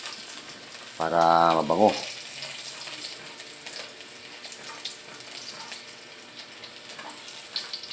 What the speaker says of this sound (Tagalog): magigisa na tayo ng bawang sibuyas. Unahin natin ng bawang